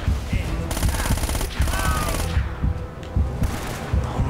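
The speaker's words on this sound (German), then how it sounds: "Das war ein gekonnter Schuss von dem her." Gunfire in the Uncharted video game, with rapid bursts of automatic shots and single cracks repeating across the clip, loud and close over a game soundtrack.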